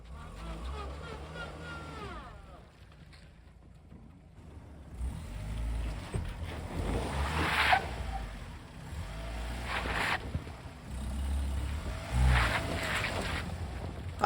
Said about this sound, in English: I found a parking lot with some deep slushy snow to test the RAV4